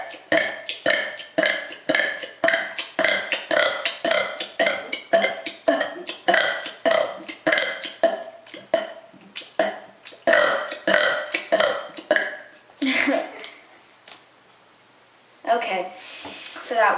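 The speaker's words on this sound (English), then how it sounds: "short quick burps" A woman burps rapid-fire, a long run of short quick belches in steady succession, loud and close, with a brief pause and a couple more at the end.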